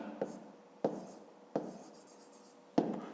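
Pen or chalk taps and scratches on a surface as a 5th-grade math division solution is written out, four distinct sharp strokes spaced apart, each trailing into soft rubbing, quiet and close with no talking.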